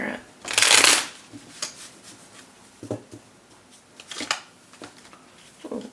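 Tarot cards are shuffled up close in several quick riffles and bursts, the loudest near the start, with soft shuffling and tapping between them and no speech.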